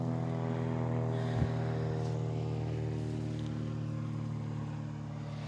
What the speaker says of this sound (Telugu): ఫ్లైట్ గ్లైడర్ వెళ్తుంది అని పైన.